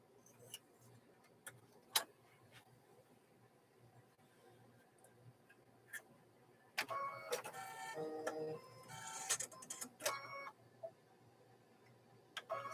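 An embroidery machine stitches out a mug rug, starting with faint sparse ticks and clicks and then breaking into a louder, busy mechanical whir and rattle of needle strokes from about halfway through, close by and without talk.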